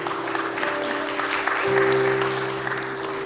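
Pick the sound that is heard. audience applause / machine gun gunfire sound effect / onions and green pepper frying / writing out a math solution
audience applause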